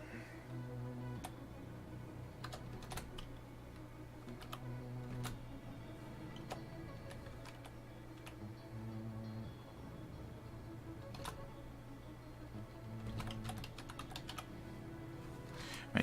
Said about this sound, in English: Make sure I typed in his name right.